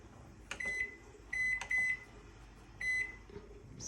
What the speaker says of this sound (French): Le micro-ondes, simple d'utilisation.